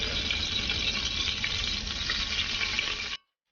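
Whole cardamom, cinnamon and cloves drop into hot coconut oil, giving a dense, steady, close sizzle that holds evenly for about three seconds and then cuts off abruptly into silence.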